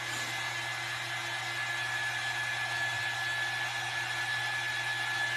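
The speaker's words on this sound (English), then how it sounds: "Okay, let's dry this first. I need more space here with my dryer." A handheld hair dryer runs steadily at close range, blowing air to dry black paint on a primitive Halloween witch craft boot, a constant loud whir with a faint hum underneath.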